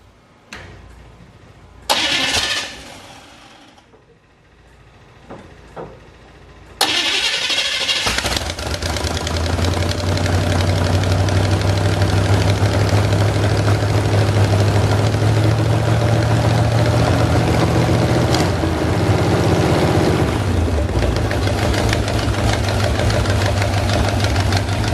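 A 1958 Chevy pickup with a swapped motor cranks over and catches, then settles into a loud, steady idle that rumbles on for many seconds, its exhaust ticking and barking through leaky header joints with no gaskets.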